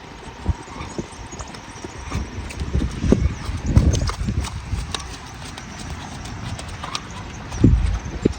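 A horse's hooves drum on the ground during a show-jumping session, a steady run of dull, close thuds that swell into heavier impacts midway and again in a strong burst near the end, with faint snorting and background rustle.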